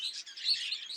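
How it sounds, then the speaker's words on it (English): Spare breeding birds in a flight cage chirp in a dense, continuous chatter of high tweets, fairly close and steady for the whole second with no talking. "Yeah, so these are the spare birds."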